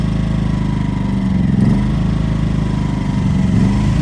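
A small portable generator engine runs steadily on choke after sitting unused for 19 months, a loud continuous drone with a slight rhythmic surge, heard alone and close.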